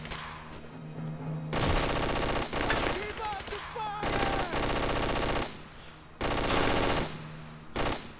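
Long, dense bursts of MG-42 machine gun fire rattle in the Brothers in Arms: Road to Hill 30 video game, rapid continuous strings broken by brief pauses, with faint game voices in the gaps.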